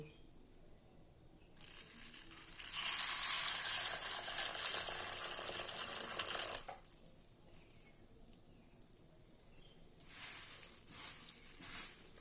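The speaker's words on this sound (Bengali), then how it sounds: "এবারে মুড়িটা আমরা নিয়ে নিয়েছি, এতে দিয়ে দেবো জল।" Water pours steadily onto puffed rice (murmura) in a bowl, a soft hissing splash lasting about five seconds, followed by quieter trickling and a brief second pour near the end.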